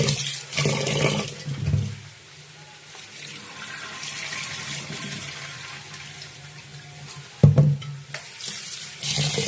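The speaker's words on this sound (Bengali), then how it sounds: "আর এদিকে চালটা ধুয়ে নিচ্ছি।" Rice being rinsed in a kitchen under a running tap, with a steady water rush and hiss throughout and a louder splash and clatter near the end, close by and with no talking.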